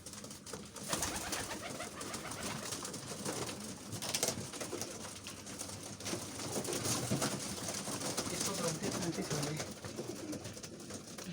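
Pigeons coo softly and repeatedly over a busy, noisy background with people talking nearby.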